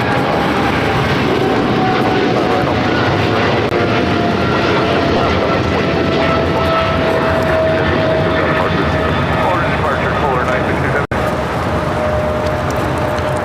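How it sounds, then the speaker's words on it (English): Polar Air Cargo Boeing 777 freighter, flying for DHL to Cincinnati, takes off from LAX with a strong, sustained engine roar and a steady whine, broken by one sharp click near the end, with occasional voices. "This is DHL operated by Polar Air Cargo Flight 962 taking off to Cincinnati on a 777 freighter."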